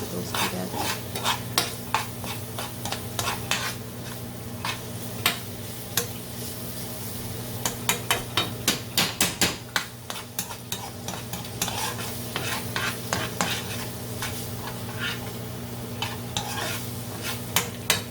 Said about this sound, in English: just continue to saute the vegetables together